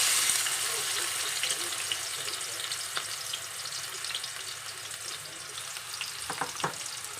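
Chopped onion sizzles and fries steadily in hot oil in a pan for chhole usal, a continuous bright crackle with a few sharp utensil clinks near the end.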